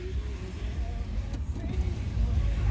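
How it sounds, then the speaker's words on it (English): Power sliding rear window of a 2017 Ram 1500 pickup, a low motor hum heard from inside the cab, steady and moderately quiet over a rumbling background. "it does have the power sliding rear window as well"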